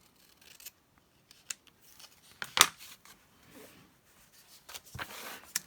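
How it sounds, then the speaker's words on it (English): Scissors snip through paper, trimming a card just past its white edge for a floral crafting project; several separate dry cuts and rustles, one sharp, louder snip standing out, close and alone without talk. "I need to cut just beyond that white edge."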